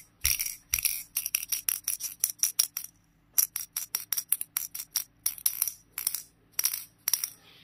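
A small metal ball or object repeatedly knocks and rattles against the glass of a handheld puzzle, producing rapid bursts of bright clinks in uneven clusters with brief pauses, close and fairly loud.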